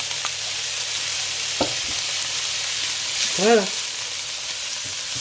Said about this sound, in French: c'est le gras du lard qui va cuire les échalotes